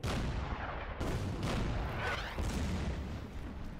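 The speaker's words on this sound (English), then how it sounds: "I'd like to try and get an artillery shot on them first" Artillery firing in the Order of Battle Burma Road war game, heavy booming shots with rumbling tails, several blasts in succession at loud, close range.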